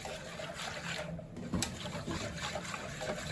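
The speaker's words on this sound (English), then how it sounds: "And then just whisk that in properly." Gram flour (besan) being whisked into a lassi, giving a soft, steady wet swishing and sloshing that runs quietly and evenly throughout, with no voices.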